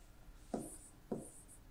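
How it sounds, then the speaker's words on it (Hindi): Two short strokes of writing on a board in a classroom, each a quick scratchy swipe about half a second apart, faint and close with no voices. "तो चलिए सबसे पहले हम यहां पर लिख लेते हैं"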